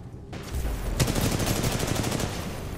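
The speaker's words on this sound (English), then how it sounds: "I love how I shoot this kid" Rapid gunfire from the video game Titanfall 2, a dense continuous burst of automatic shots that starts abruptly after a brief quiet moment and holds loud and steady throughout, with no voices over it.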